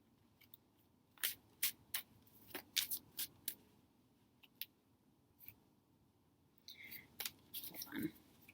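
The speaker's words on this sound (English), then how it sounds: "I'm going to shuffle these" A new tarot deck gets shuffled in short, crisp bursts of card riffles and flicks, fairly close and quiet, with gaps of near silence and a denser flurry toward the end.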